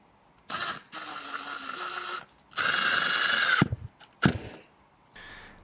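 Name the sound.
screw driven into wood with a drill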